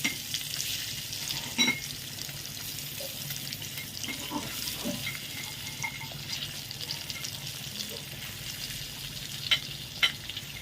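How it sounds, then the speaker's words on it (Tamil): An egg frying lightly in a pan with chili powder and salt gives a steady, faint sizzle with a few sharper clicks and splashes, no voices over it. "கொஞ்சம் மிளகாத்தூள், கொஞ்சம் உப்பு சேர்த்து நம்ம இந்த முட்டையை லைட்டாக போட்டு எடுத்துக்கலாம்"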